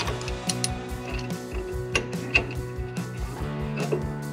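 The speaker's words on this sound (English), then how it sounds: "put a 9/16 socket on this, and we'll just unbolt this right off of the axle" A ratchet with a 9/16 socket unbolting the axle breather tube bolt on a 1966 Mustang, close and steady, with a rapid run of clicking strokes under a mechanical hum.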